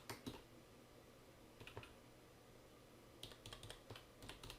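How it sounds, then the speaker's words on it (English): Quiet computer keyboard typing with scattered key clicks in small clusters, near and faint over a soft background hum. "and then you would type in"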